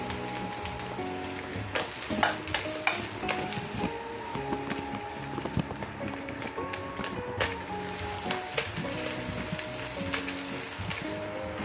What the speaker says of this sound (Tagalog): Haluin natin hanggang sa mag-translucent yung ating sibuyas. Lagay na natin yung ating 5 piraso na minced garlic.